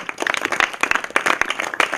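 Clapping from a congregation at a thanksgiving day gathering with orphans in Gabon, quick irregular handclaps close by, bursting in uneven clusters over a couple of seconds.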